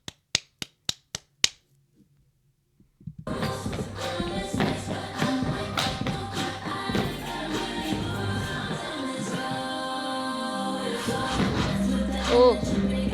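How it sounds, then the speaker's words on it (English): Crisp rhythmic stomps and claps from K-pop dancers rehearsing choreography, a quick run of sharp hits up front, a short pause, then a steady dance track with repeated percussive footfalls. "Like with the stomps and the rhythm they have, it's just so satisfying"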